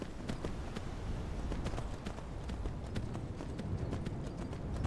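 Horse hooves clip-clop at a steady trotting rhythm in Skyrim Special Edition, sharp repeated strikes over a constant low rumble of ambient game noise, close and moderately loud with no speech.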